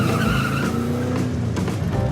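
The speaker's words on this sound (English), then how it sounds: "Burns rubber." A car burns rubber, its tires squealing in one loud, continuous screech over a roaring engine, close and sustained throughout.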